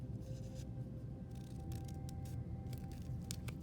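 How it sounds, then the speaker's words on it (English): Scissors snip paper into simple snowflake shapes, giving a few quiet, sharp cuts scattered over a faint room hum, close and without talk. "I can also cut some more shapes out"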